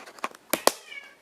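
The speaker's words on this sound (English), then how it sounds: "That's my cat at the door meowing" A house cat meows at a door, giving a few short, faint-to-moderate cries spread over about a second, heard from some distance within an indoor room.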